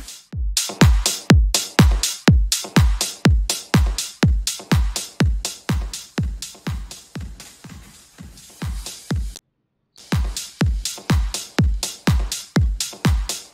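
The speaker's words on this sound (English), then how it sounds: "Now let's hear what it sounds like with our reverb plugin on." Drum loop processed through an AI genetic reverb plugin: steady, loud repeating kick-and-snare hits, each trailed by a reverb tail, with a brief dropout near the end before the pattern resumes. No voices.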